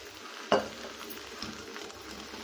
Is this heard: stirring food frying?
yes